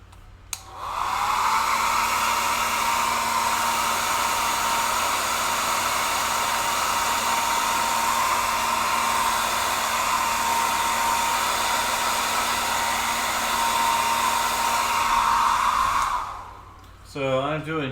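A hair dryer blowing on artwork, a loud, steady whooshing hum with a faint whine, running continuously for about fifteen seconds before switching off.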